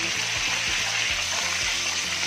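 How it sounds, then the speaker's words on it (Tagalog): Chicken deep frying in hot oil gives a steady, dense sizzle with a soft bubbling crackle, close and continuous throughout with no voices. "iaahon na po natin ang ating fried chicken"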